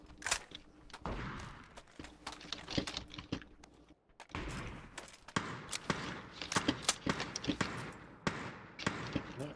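Rapid gunfire bursts in PUBG, sharp repeated cracks in irregular volleys with short pauses between them, close and moderately loud with no talking.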